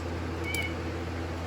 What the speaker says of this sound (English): I don't know if you can hear my cat like meowing.